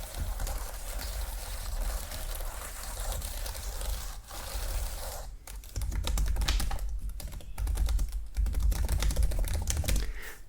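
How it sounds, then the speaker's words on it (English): Fingernails scrape and drag across a computer keyboard in a dense, continuous rattle of soft clicks and scratches, close and steady, with a brief pause near the middle before the scraping resumes. "I'm going to just drag my nails along the keyboard so you can still get some nail sounds."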